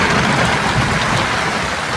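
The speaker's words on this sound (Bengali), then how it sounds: "প্রচুর প্রচুর বৃষ্টি হচ্ছে," Heavy rain pours steadily in a village in Kultali, Sundarbans, a broad continuous hiss close by, with a faint low rumble underneath and no voices.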